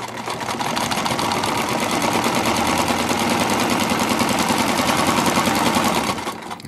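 Sewing machine hemming the edges of hammock fabric, a loud, fast and steady mechanical chatter of stitching that runs for several seconds close up, then slows and stops at the end.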